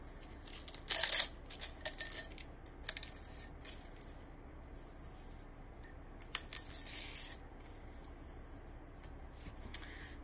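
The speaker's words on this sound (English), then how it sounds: "I'm gonna go ahead and peel off my shrink wrap." Shrink wrap peeled off a sublimated pint glass fresh from a convection oven, heard as faint, scattered crinkly tearing and rustling bursts, one louder rip near the start and another midway.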